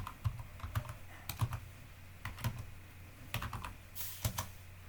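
Fingers tap a computer keyboard in irregular bursts, crisp close key clicks with small pauses between groups of strokes, fairly quiet and with no voices.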